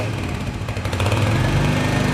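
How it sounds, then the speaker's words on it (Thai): A Royal Enfield Hunter 350 motorcycle with stock exhaust idles steadily and close by, with a low, buzzing, slightly uneven putter and no voices. "คันนี้ยังคงเป็นท่อเดิมนะครับ เดี๋ยวฟังเสียงท่อคันนี้กันครับ"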